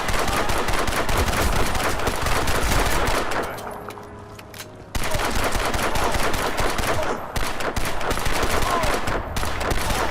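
Rapid automatic rifle fire in the shooter game Crysis 2, dense bursts of loud gunshots with a short lull midway before the firing resumes, a faint voice briefly underneath.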